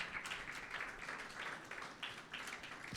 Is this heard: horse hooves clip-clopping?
no